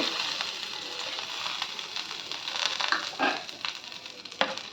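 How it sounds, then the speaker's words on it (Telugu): Chana dal and coriander seeds dry-roasting in a pan, a steady crackling sizzle with scattered sharper pops and scraping stirs, moderately close, with no talking. "ఇవి కూడా చక్క ద్వారగా వేయించుకోవాలి మంచి కలర్ వచ్చిన వరకు"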